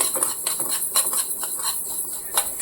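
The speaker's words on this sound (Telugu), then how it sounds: "ఒక 2 నిమిషాలు మెంతులు కలర్ చేంజ్ అయ్యేంత వరకు తిప్పేసుకోవాలి, ఫ్రై చేసుకోవాలి" Fenugreek seeds dry-roasting in a pan as they are stirred, producing light rattling and pattering taps with a faint hiss, fairly close and steady.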